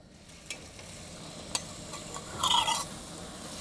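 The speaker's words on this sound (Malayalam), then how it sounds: "നമ്മൾ ചൂടായ എണ്ണയ്ക്ക് ഇട്ട് കൊടുക്കാം കേട്ടോ." Carrot noolputtu snack drops into hot oil, with a soft steady sizzle, a few sharp clicks of utensils, and a brief louder burst of bubbling near the end.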